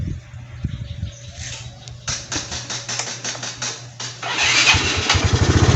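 A Yamaha Mio Sporty scooter engine cranks and fires up after a Powermax CDI install, the starter whirring in short bursts before the motor catches and settles into a close, steady idle.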